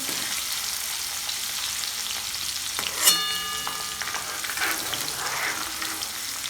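Garlic sizzles steadily in hot oil in a pan, with one brief metallic clink of a utensil partway through.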